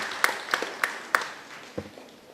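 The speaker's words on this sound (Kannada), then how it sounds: "ಅದಕ್ಕೆ ಅವರಿಗೆ ಒಂದು ಕೈ ಚಪ್ಪಾಳೆ." An audience at a drug-abuse awareness camp at St. Sebastian church in Permannur gives a brief, sparse round of applause, a handful of separate hand claps that fade out quickly.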